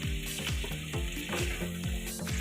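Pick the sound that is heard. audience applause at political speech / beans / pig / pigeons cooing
beans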